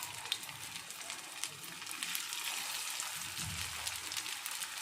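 Pieces of aval (flattened rice) cutlet fry in a small amount of hot oil, a faint, even crackling sizzle with light pops, steady and close throughout.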